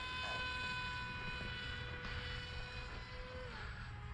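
A Dynam Hawksky V2 RC airplane flies with a steady, whining electric motor drone that holds several pitch lines, faint and continuous at a moderate distance with a slight pitch shift near the end.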